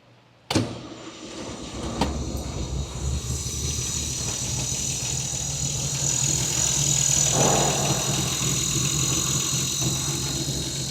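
A 1967 Austin-Healey 3000 Mk III BJ8 engine cranks and catches with a sharp start, then settles into a steady, loud, close idle that rises slightly in intensity.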